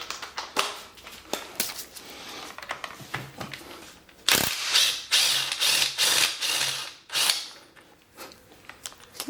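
Ratchet wrench working on bolts to remove the alternator from a 2C-T diesel Corolla engine, irregular bursts of clicking and scraping ratchet strokes close by, with no talking.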